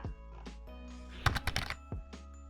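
Quick clicking keystrokes on a computer keyboard during a Java programming session: a short burst of taps in the middle, faint against a steady low hum.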